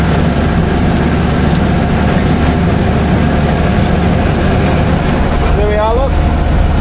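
A tractor with a topper mows through rushes in a field, its loud, steady engine drone running without a break from start to finish.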